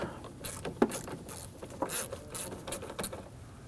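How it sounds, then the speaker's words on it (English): A 10mm socket loosening the battery nut on a 2009-2017 Volvo XC60 makes a series of close, light metallic clicks and ratcheting taps in short, irregular bursts. "We're going to use our 10mm socket, loosen the nut."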